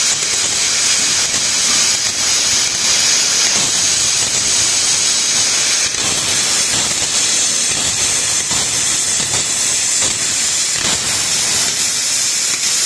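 A plasma cutter running on weak 160-volt mains tries to cut metal, giving a loud, steady, close hiss of the arc that roars on without a break and sputters faintly in places.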